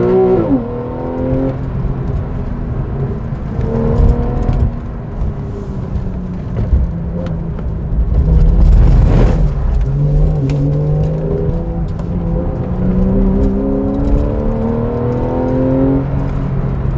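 A Porsche 911 Carrera engine revs and climbs in pitch as it accelerates, eases off, then pulls hard again, loud and close, with rising and falling harmonic tones.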